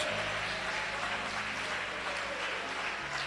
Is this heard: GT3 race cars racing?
no